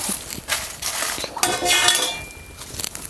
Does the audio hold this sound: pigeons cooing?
no